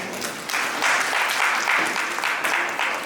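An audience at a school principals' conclave applauds throughout, a dense, steady wash of many hands clapping with no pauses or voices.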